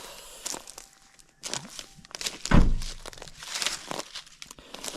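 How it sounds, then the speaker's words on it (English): A handheld clip gun fastens steel rings onto farm fence wire, giving a sharp mechanical thunk midway among crinkling, rustling handling noises and footsteps nearby. "I've got the clip gun here."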